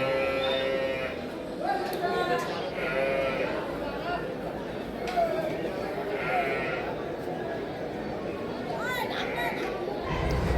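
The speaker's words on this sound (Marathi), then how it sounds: "पाहू शकता मित्रांनो म्हशी तुम्ही" Buffaloes at a livestock market in Sambhajinagar (Aurangabad), with bleats and moo-like calls rising over a busy crowd murmur, a person speaking throughout.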